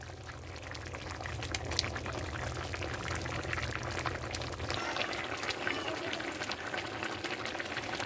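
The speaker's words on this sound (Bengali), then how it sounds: "এইভাবে আমি 2 মিনিট ফুটিয়ে নেব" Thin fish curry with potatoes simmering in a pan, a low steady bubbling and gentle liquid churn that stays even and fairly quiet throughout.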